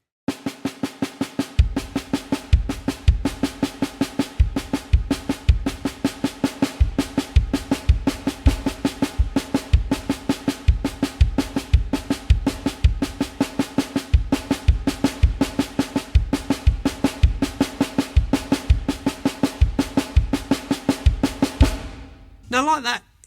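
Slow, steady snare drum singles played without accents, with single bass drum kicks dropped in underneath, an even close-miked drum kit pattern that runs continuously before a cymbal-like wash at the end.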